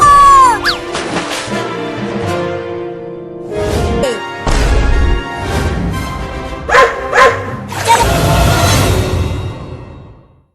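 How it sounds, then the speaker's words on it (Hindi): Two dogs barking in bursts, loud and close, with yips and whimpers mixed in and a crash-like clatter partway through. "वो देखो उस कुत्ते ने एक और कुत्ते को बुला लाया।"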